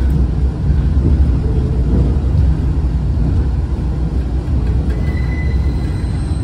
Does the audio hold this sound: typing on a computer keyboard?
no